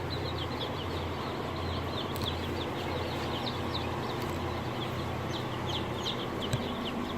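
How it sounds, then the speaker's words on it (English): Roughly 300 day-old baby chicks crowd a brooder on an urban farm, their high peeping forming a dense, continuous chorus at steady volume with a constant low hum beneath. "So in here are about 300 baby chicks."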